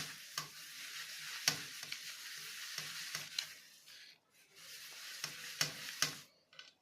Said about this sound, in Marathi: त्याच्या असे एकदम बारीक फेटून घ्यायची. क्रीम बनवल्यासारखी बनते मग अशी.